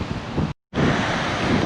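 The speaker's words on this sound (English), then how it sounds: "The sea is on my right." Sea surf rolls at Dawlish Warren beach in South Devon, a steady broadband wash mixed with wind buffeting the microphone, broken by a brief moment of silence before resuming.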